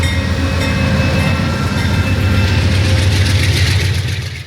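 An Amtrak passenger train or CSX freight train rumbles past the 1920s station and along the main street in Ashland, Virginia, with a loud, close, continuous roll of wheels and a deep engine drone and steady clacking.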